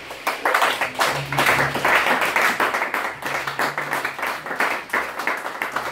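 A church congregation claps in steady rhythmic unison during a worship service, loud and close, with voices calling out and acclaiming underneath the clapping.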